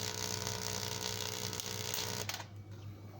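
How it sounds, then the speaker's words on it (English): Steady buzzing crackle of corona discharge from a high-voltage Biefeld-Brown lifter prototype, a dense hiss with a constant hum, loud and close, cutting off abruptly near the end and leaving quieter noise. "That sound you hear is the corona discharge"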